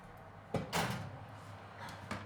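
A hot oven door, preheated to 230 degrees for baking bread, shuts with a couple of short knocks and a softer rattle in between, close and fairly quiet in a still kitchen.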